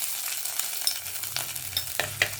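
Crushed ginger sizzles in hot oil flavoured with fenugreek for a Kerala fish curry, a light steady crackle close by, broken by several sharp clicks of stirring.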